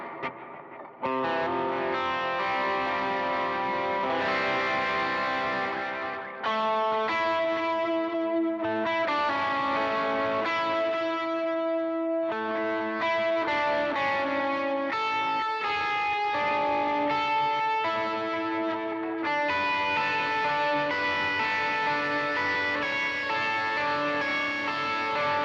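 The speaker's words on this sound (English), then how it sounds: "Again, little plate reverb." Sustained electric guitar chords and melody through a plate reverb on an HX Stomp, with a lush, spacious reverb tail, playing continuously with brief pauses between phrases.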